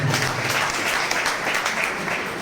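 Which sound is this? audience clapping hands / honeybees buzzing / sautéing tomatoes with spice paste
audience clapping hands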